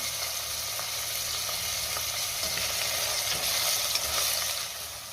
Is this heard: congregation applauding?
no